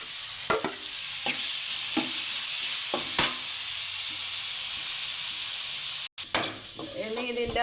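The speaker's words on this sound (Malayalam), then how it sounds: "ഞാൻ ഇളക്കിക്കൊണ്ടിരിക്കുകയാണ്." Beetroot thoran, grated beetroot tipped into hot oil with popped mustard seeds, sizzles steadily in a pan while a spoon scrapes and stirs in a few separate strokes. A brief cut comes near the end, then clattering stirring resumes. No voices.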